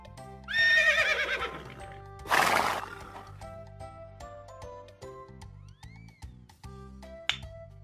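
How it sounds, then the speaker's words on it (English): A loud horse whinny rings out, followed by a second shorter neigh, then quieter clicks and a faint jingle in a calm setting. "Horse."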